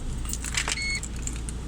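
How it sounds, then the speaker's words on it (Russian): A car ignition key jingles on its ring and clicks into the ignition slot of a car fitted with a remote-start alarm, producing close, bright metallic clinks over a low steady background rumble. "Вставляем ключ зажигания"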